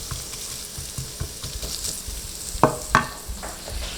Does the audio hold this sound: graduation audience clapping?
no